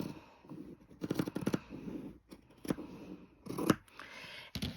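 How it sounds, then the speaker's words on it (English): Scissors cutting straight down through quilt fabric, heard as clusters of crisp snipping and slicing strokes in irregular bursts with short pauses between, close and fairly quiet with no talking. "And then you're just going to cut straight down."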